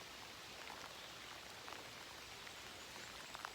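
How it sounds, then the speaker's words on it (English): Steady rain falls on a small fishing boat out on the water in miserable weather, a soft continuous hiss with scattered drop taps and no voices. "I think the rain is, bringing the temperature down a lot"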